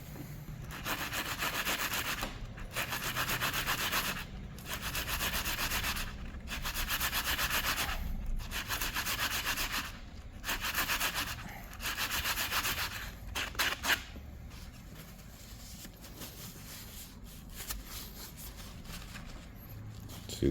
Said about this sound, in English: I keep a little sanding block here.